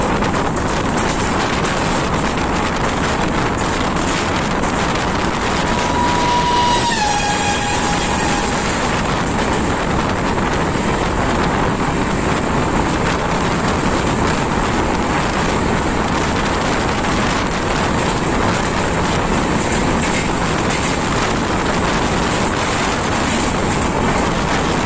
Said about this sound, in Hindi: फिलहाल आप सामने देख रहे होंगे जो आपको ट्रेन जो दिख रही है वो नॉर्थ ईस्ट एक्सप्रेस है